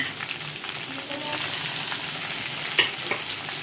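Onion and tomato frying in hot oil for a brinjal curry, a continuous close sizzle with intermittent stirring scrapes and a brief sharp clink near the end, no voices.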